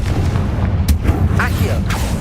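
Confringo blasting curse explosion in the Hogwarts Legacy video game: deep booming blasts over a dense, continuous rumble of game noise, with a couple of sharper bursts standing out.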